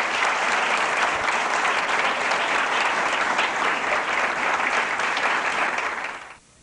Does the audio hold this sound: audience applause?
yes